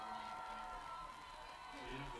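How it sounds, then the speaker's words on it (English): A stadium crowd at a women's soccer match cheers and shouts after a goalkeeper's save, a steady, distant roar that swells toward the end, with commentary over the top. "And that wakes up this cold crowd over across the way."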